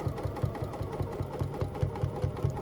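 A sewing machine stitching a line on an embroidery sampler block, running at a steady, fast mechanical rhythm of evenly spaced stitch thumps, fairly quiet and heard alone.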